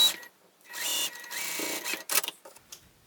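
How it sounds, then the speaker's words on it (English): Sewing machine basting satchel lining in short bursts, a close buzzing whir that starts and stops several times, separated by brief quiet gaps and small handling noises. "I'm just going to baste this part together."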